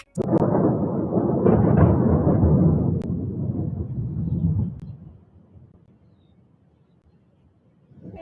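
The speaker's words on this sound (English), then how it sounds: "thunder," A deep, heavy rumble of thunder rolls loudly for several seconds, then fades into a low, quiet tail with a faint hint of rain.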